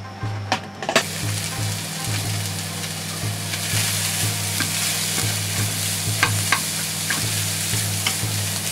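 Chopped sausage, onion, green pepper and zucchini stir-fried in a pan, a continuous loud sizzle with repeated scraping and tapping stir strokes, close and steady, no voices.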